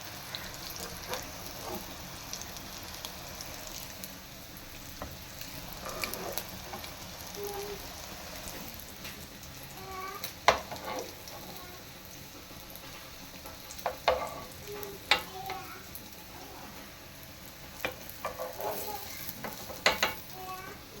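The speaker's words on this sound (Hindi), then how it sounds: "अब इनको करते हैं फ्राई।" Chicken shami kababs frying in a pan, a steady low sizzle and crackle throughout with occasional sharper pops and spatters rising over the bed of oil noise.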